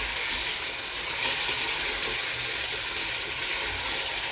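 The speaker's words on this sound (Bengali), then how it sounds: "এখন চিকেনটা দিয়ে দিই ভালো করে মশলার সাথে মিশাবো" Chicken pieces tossed into a pan of fried spice paste for chicken roast crackle and sizzle loudly and continuously, close by, with faint scraping as they are stirred through, and no one speaking.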